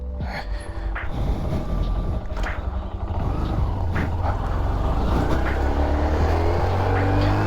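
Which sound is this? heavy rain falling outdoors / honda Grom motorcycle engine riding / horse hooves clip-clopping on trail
honda Grom motorcycle engine riding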